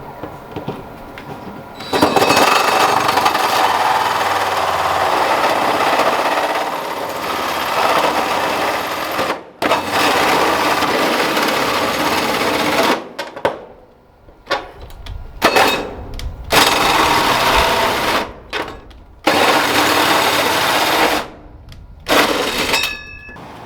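A power tool cutting sheet metal during a ductless mini split install, a loud harsh buzzing grind in several bursts separated by sharp stops and short pauses.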